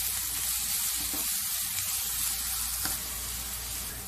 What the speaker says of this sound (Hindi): लाल खड़ी मिर्च, तेज पत्ता, लौंग, इलायची, दालचीनी, प्याज डाल के कर लेंगे फ्राई